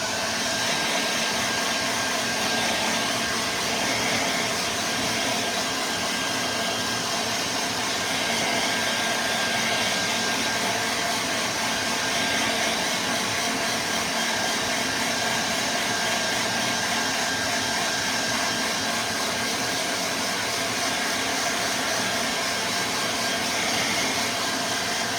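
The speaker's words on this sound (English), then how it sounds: "hairdryer, just a regular hairdryer." A regular handheld hair dryer blows steadily and loudly at close range for the whole stretch, a constant broadband whoosh with no talking over it.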